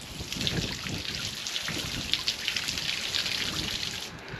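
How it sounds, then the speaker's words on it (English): Water from a garden hose sprays into a koi pond, a continuous pattering splash like rain on the surface, moderately close and steady. "So water from the hose pipe"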